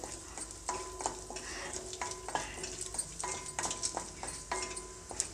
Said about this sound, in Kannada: ಗೋಡಂಬಿನ ಒಂದು ಸ್ವಲ್ಪ ಬ್ರೌನ್ ಕಲರ್ ಬರೋವರೆಗೂ ಫ್ರೈ ಮಾಡ್ಕೊಳ್ಳಿ